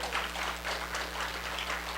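Congregation clapping hands together during a Korean Full Gospel church revival service, a continuous, even patter of many hands with a steady hum underneath and no break.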